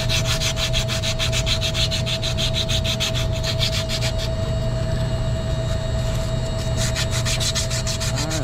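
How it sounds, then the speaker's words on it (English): Copper refrigerant pipes on an LG Multi V inverter compressor being sanded by hand, a close, fast rhythmic rubbing scrape that pauses briefly midway before resuming, with a steady machine hum underneath and no talk. "We got everything sanded."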